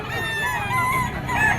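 A banded early bird stag rooster at a Bocaue, Bulacan fowl market crows once, a loud, close, wavering call lasting over a second.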